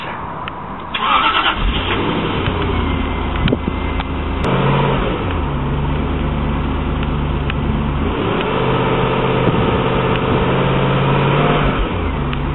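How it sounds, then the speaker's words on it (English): A V8 car engine cranks and fires up, then settles into a deep, steady rumbling idle that carries on loudly for several seconds, with no talking. "is the sound of its V8"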